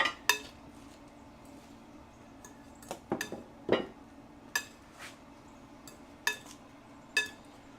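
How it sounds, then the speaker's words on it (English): Coleslaw being mixed in a bowl for grilled alligator nugget tacos: scattered utensil clinks and scrapes against the bowl, a few sharp taps spread irregularly over several seconds, close and fairly quiet with no talking. "Let me mix this slaw again"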